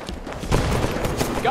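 Gunfire crackles in a Halo 5 Warzone match, a dense, loud volley of rapid shots layered with other battle noise, a voice speaking over it.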